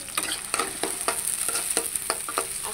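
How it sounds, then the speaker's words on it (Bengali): Onions frying in a pan with steady sizzle and repeated sharp stirring scrapes every fraction of a second, close and clear with no talk. "এই যে পেঁয়াজ ভাজতেছি"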